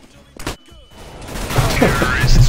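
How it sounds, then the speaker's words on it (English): A flashbang grenade in the video game Dishonored goes off with a sharp burst, followed by a rising, dense wash of noise that builds louder and holds to the end. "Throwing flashbang."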